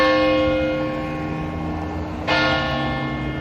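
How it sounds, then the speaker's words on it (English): Church bells ring with steady, sustained tones, their resonant hum swelling noticeably as a fresh strike lands partway through. "we're waiting for the old bells to start ringing"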